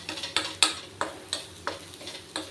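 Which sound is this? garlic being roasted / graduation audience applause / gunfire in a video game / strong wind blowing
garlic being roasted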